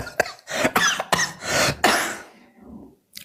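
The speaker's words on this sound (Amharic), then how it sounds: "ይሄን ሳል ደረቅ ሳል ይባላል" A run of harsh, dry coughs, several loud close bursts in quick succession with short gaps, trailing off into quieter breathy sounds near the end.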